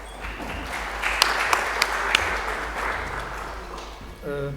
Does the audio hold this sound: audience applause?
yes